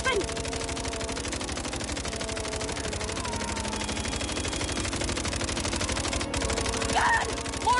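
Rapid, sustained machine gun fire rattles without a break as a Saints character shoots at mercenaries in a video game, loud and close, with dialogue and other game sounds faintly underneath.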